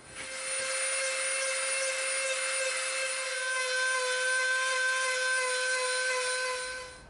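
A rotary tool fitted with a rough bit grinds EVA foam, a sustained high-pitched whine with strong tonal harmonics that rises in pitch partway through, close and alone.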